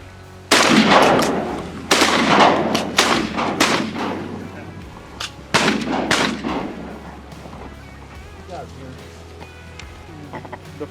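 Several shotgun blasts boom in quick bursts during a duck hunt on the water, loud and close, with a few separated shots following and people talking between them.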